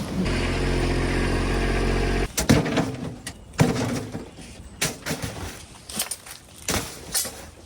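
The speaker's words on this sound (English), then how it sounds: "Now I'm gonna spin the tractor around and start mixing concrete." A Kubota tractor engine runs with a steady low drone while the machine turns around to mix concrete, then gives way to irregular clanks and knocks of equipment moving.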